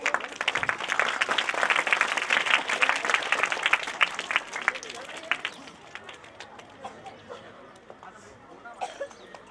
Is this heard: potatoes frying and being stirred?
no